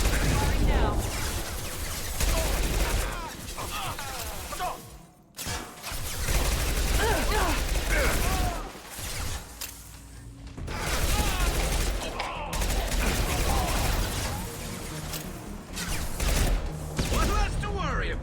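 Sustained gunfire from a Mass Effect 2 combat encounter, rapid repeated shots in dense bursts with brief gaps, loud and close, mixed with game effects and occasional voices.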